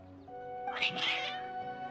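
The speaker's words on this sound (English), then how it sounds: "Your cats seem pretty worked up." Cats meow in Genshin Impact, a loud drawn-out wailing meow rising over a steady game music background and lasting about half a second.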